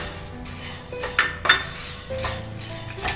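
Dry red chillies being lightly roasted in a pan clatter as a metal spoon stirs them, giving a few sharp scraping clinks against the pan over a quiet low background.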